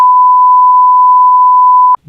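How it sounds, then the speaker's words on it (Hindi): Computer CPU beeping during a startup fault: a single long, steady, loud electronic beep lasting about two seconds, then a brief hint of another sound as it ends. "सीपीयू के अंदर से आवाज आ रही है, बीप बीप बीप बीप।"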